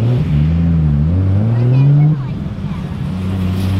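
A Toyota Supra's engine revs hard in a rising, climbing roar that holds close and loud for about two seconds, then drops back to a lower, steadier growl.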